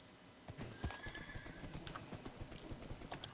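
Horse hooves clip-clop and a horse neighs in the Minecraft video game on PS4, giving a short burst of rapid hoofbeats with a whinny over them, close and clear.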